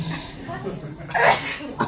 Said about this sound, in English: I'm going to sneeze again.